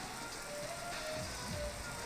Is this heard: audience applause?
no